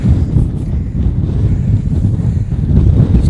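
Strong gusting wind on an open hilltop roars and buffets the microphone continuously and loudly, with no voices.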